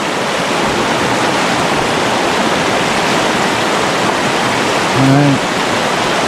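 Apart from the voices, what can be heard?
river rapids rushing at Fall Creek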